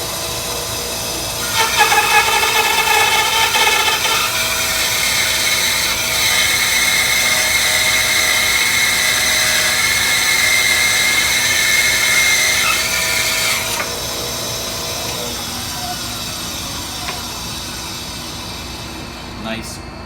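A Rikon 10-305 ten-inch bandsaw resaws a roughly 3-inch-thick piece of poplar, giving a steady loud motor whine with a sharp cutting rise that holds for about twelve seconds, then drops back to the quieter idling motor.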